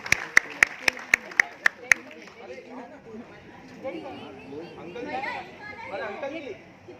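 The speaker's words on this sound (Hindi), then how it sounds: "ओके मैम के लिए जोरदार तालियां हो जाए" A few sharp, evenly spaced hand claps ring out near and loud for about two seconds at a Bollywood Park singing event in Mumbai's Film City, then give way to murmuring crowd chatter and people talking.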